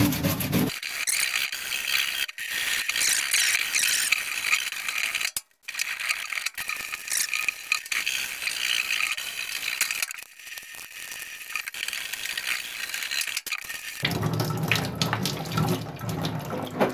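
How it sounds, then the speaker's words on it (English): A nylon brush scrubs charred, Lichtenberg-burned diamond willow wood under water: repeated rough rubbing strokes close up, with short pauses and a stretch of running water near the end. "They say you just want to put a little water on it and just scrub this off."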